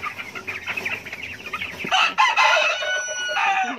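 Chickens and roosters packed in a box cluck loudly and continuously, the calls growing denser and more agitated toward the end, close by with no talking.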